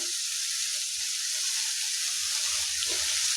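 Cabbage stir-fries in a pan over a medium flame, giving off a steady, close sizzle and hiss with faint stirring scrapes underneath.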